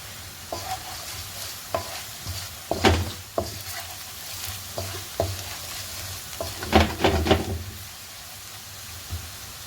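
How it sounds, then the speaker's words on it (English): Onion caramelising with powdered spices in a pan for an aubergine dal, a soft sizzle broken by several sharp scraping stirs of a spoon against the pan, close and without talk. "So I'll just caramelise the onion in the powdered spices."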